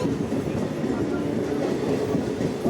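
Steady rumbling roar of a train rolling on rails as it enters Chakdaha station, dense and close, with faint rhythmic wheel clatter and no clear voices.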